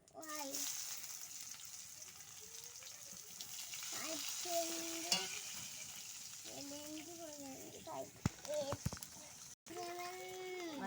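Chopped onion going into hot oil with panch phoron, dried red chilli and bay leaf in a pan, a soft, steady sizzle under a person talking.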